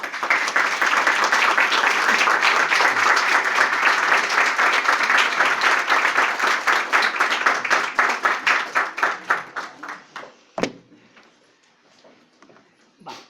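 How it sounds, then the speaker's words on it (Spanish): An audience applauds to welcome a speaker at a talk, starting as full, dense clapping that thins into individual, rhythmic claps and fades to a few scattered ones near the end. "yo quiero que le recibamos con un aplauso"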